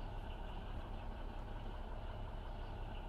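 A truck engine idling in Grand Truck Simulator 2, a steady low rumbling drone with an even hum and no change in pitch, alone with no voices.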